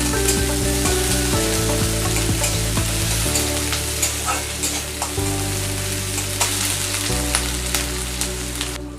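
Chopped onions and whole cumin seeds fry in hot oil for a village-style crab and eggplant curry, giving a steady, close sizzle with light stirring throughout, set against continuous background music.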